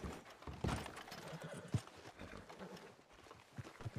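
Horses in the video game Red Dead Redemption 2 (RedM) stand close by, hooves clopping and shuffling irregularly with a snort or whinny, moderately near and fairly quiet.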